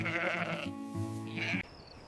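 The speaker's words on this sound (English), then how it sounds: "Sheep settle down for the night." A sheep settling down for the night on a wool farm gives two drawn-out, quavering bleats close by, loud and clear with a short pause between them, followed by quiet.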